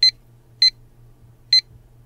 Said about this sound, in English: let's get those in the oven and set the timer